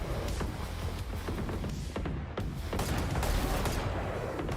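Gunfire from the Guardian rifle in a video game, shots crackling densely and almost continuously at moderate loudness, with brief gaps between bursts and no voices over them.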